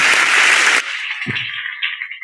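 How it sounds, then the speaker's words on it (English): Audience applause at a youth dialogue panel with Peter Obi and Baba-Ahmed, a dense burst of clapping that cuts off sharply after under a second, followed by quieter room sound and a brief low thump. "A round of applause for His Excellency, please."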